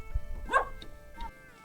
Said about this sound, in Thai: หมาเห่ารถหน่อยกันเลยเนาะเชี่ยวๆอยู่